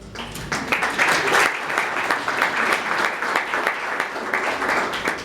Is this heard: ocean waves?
no